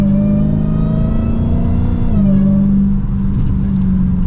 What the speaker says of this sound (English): you really hear that supercharger whine over everything